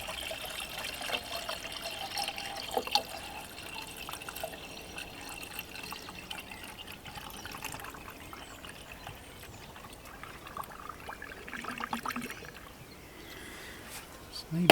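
Water is poured into the cooling system of a Land Rover Discovery 2 Td5, a steady trickling fill running under ongoing talk in a workshop setting.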